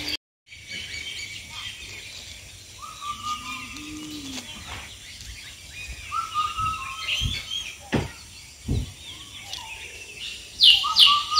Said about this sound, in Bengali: কি সুন্দর পাখির ডাকের আওয়াজ হচ্ছে এখানে